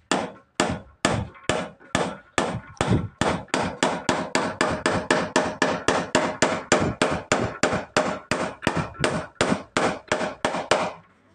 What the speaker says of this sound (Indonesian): cara memaku supaya tidak bengkok